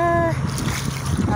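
Bare feet slosh and splash through a puddle of soft, muddy water, a brief wet squelching up close after a short tonal sound at the start.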